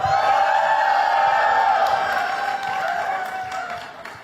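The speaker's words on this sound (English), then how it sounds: "that deserves a round of applause" An audience breaks into a round of applause, steady clapping with a few cheers that holds strong and then gradually tapers off.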